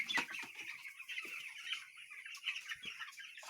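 Chickens on a broiler poultry farm cluck and chatter continuously, several birds close by with overlapping short calls and a busy flock murmur, no talk.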